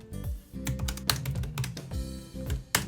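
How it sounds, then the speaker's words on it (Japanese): Fingers type on the metal keyboard deck of a Surface Laptop 4, a quick uneven run of crisp, close key clicks with a few heavier strokes and no talking. "キーボードの打鍵感に関してはこっちのメタル素材の方がとってもいい感じ"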